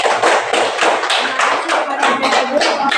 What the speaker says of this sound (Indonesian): silakan anak ibu tepuk tangan dulu untuk kelompok 2